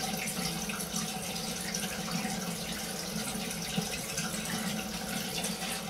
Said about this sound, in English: Always rinse your alum block off.